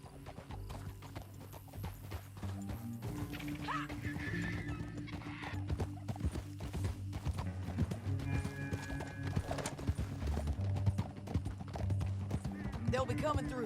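Hooves clip-clop steadily as a horse gallops in Red Dead Redemption 2, with a whinny breaking through, all set against game music and a voice.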